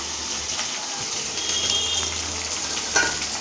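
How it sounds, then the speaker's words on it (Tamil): Spice powder frying with onions in a pan for sambar, a steady close sizzle with faint stirring scrapes and a few brief clinks, no voices. "இந்த பொடியை வெங்காயத்திலே போட்டு நல்லா வணக்கிக்கணும்."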